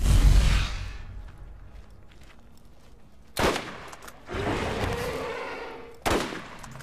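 Gunfire in the video game Borderlands while shooting an alpha skag: an opening blast, then several separate loud bursts of rapid shots with quieter gaps between them.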